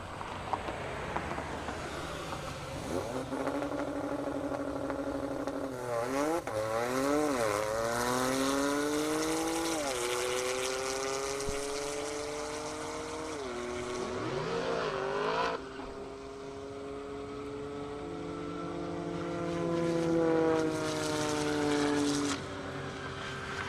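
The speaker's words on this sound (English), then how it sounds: "Up next, Aviaris Norcas at a 2015 Porsche 911 Turbo S, and Josh Cage in a 2022 Toyota Supra." A 2015 Porsche 911 Turbo S and a 2022 Toyota Supra racing down a half-mile airport drag strip, engines roaring loud and sustained, revving up through several gear shifts in long rising sweeps, with no voices over them.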